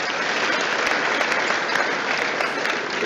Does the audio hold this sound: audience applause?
yes